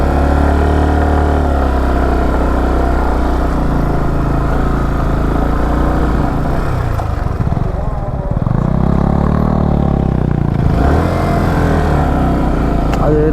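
A motorcycle engine, ridden two-up, drones and labors on an off-road stretch near Munnar, a loud continuous rumble whose pitch wavers and strains, with a voice speaking over it.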